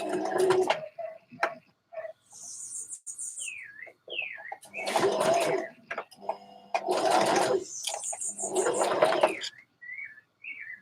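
A sewing machine back stitches fabric for a dress in three or four loud, close bursts of fast needle whirring, with pauses between and some chirpy squeaks and brief talk in the gaps.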